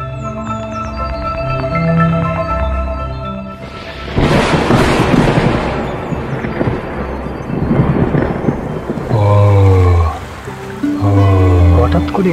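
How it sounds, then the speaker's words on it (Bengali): In a cartoon forest scene, music gives way to a sudden heavy downpour and rolling thunder, with a loud rushing crash and dense rain hiss, followed by a voice speaking over the storm. "হঠাৎ করে এত বৃষ্টি শুরু হয়ে গেল।"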